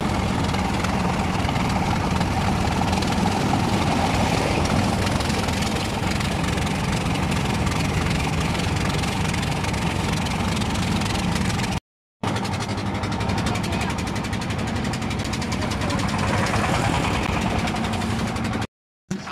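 A motor boat engine drones steadily while crossing a river toward Sada Pathor in Sylhet, a constant close, loud low hum with water rush, briefly cut off twice.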